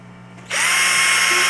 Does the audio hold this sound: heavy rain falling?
no